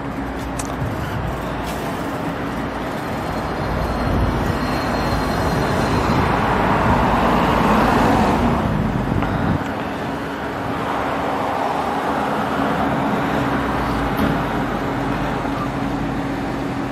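Heavy road traffic rumbles past, with a louder truck swelling through the middle as large trucks hauling for metro construction drive by nearby, beside Kolomenskoye park.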